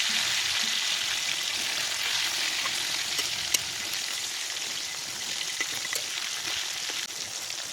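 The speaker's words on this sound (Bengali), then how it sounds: "মাছগুলো ভালোভাবে ভাজা হয়ে গেছে," Fresh pond fish fry in oil under a lid, a continuous dense crackling sizzle with scattered pops and spits throughout, moderately loud and steady.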